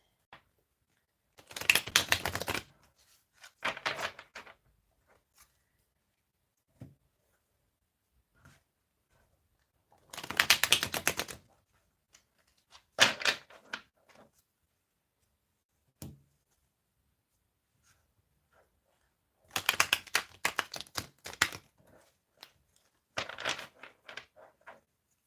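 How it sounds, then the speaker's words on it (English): A deck of slightly damp, moisture-thickened cards is shuffled in several short riffling bursts, roughly in pairs, separated by quiet pauses, close and fairly soft. "I'm going to give them a really good shuffle."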